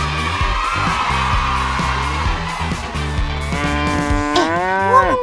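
Livestock cattle moo loudly and close, with several long, drawn-out calls repeating over a busy background, one bellow rising and wavering near the end.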